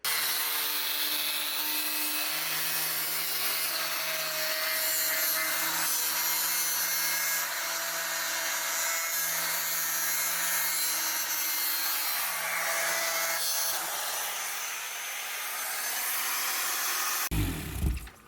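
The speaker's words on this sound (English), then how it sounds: "we'll get these cut out, get it sanded up and cleaned up" Power tools cutting and sanding carbon fiber parts in a race-car workshop produce a loud, steady whining drone with a constant hum underneath, running without a break for most of the span before a sharp burst of noise at the end.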